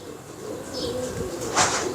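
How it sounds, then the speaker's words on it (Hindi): A pure-bred pigeon gives a low, soft coo close by, a brief throaty rumble lasting about two seconds. "ये कबूतर अपने आप में ना अच्छा कबूतर है, एक प्योर कबूतर है"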